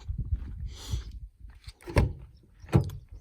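The door of a 2020 Toyota Tundra TRD Pro makes thuds and rustles as someone climbs into the cab, with two solid knocks near the end, close by and without talk.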